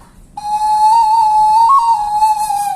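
A wooden birdcall whistle imitates a snake with one long, steady, loud piping tone, held for over two seconds with a slight waver and no talking.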